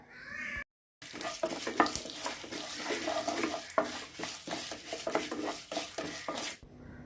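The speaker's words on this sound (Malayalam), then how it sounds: "ഇനി ഈ ഉഴുന്നൊന്ന് ചുവന്ന് കിട്ടുന്നത് വരെ നമുക്ക് ഇളക്കി കൊടുക്കണം." Urad dal frying in a pan with curry leaves for jackfruit thoran is stirred steadily, the spoon scraping and clinking against the pan over a soft, continuous sizzle, close up and with no speech.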